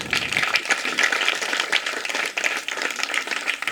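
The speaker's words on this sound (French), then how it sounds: "Est-ce qu'on peut applaudir pour Yves?" An audience claps and applauds steadily for Yves at a visit to an orphanage, a dense, continuous patter of many hands that carries on without a break from start to finish.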